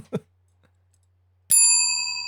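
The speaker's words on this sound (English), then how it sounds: "That's the bell. That's that bell." A single bell strikes sharply and rings on with a clear, bright sustained tone that slowly fades, following a brief soft thump and near-silence in an indoor room.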